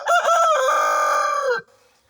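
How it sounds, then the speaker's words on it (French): A Wyandotte hen lets out one loud, drawn-out call lasting over a second, close by, then falls quiet. "Alors, une poule."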